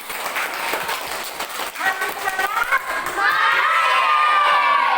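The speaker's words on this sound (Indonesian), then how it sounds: "Tepuk tangan." Schoolchildren in a classroom clap and shout together, a loud burst of mixed voices and hand claps that swells into sustained cheering.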